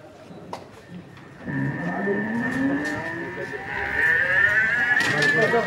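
A white-coloured cow lows loudly and close on a farm at night, one long drawn-out moo lasting several seconds with a rising, wavering pitch, after a brief quieter stretch of background noise.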